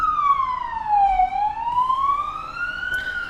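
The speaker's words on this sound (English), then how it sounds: "maybe you can hear the ambulance because I'm living next to the 3 or 4 hospitals in Warsaw" An ambulance siren wails outside a home near several hospitals in Warsaw, a single loud, clear tone sliding down and then back up over a few seconds, heard alone.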